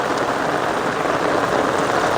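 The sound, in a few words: rain falling in a village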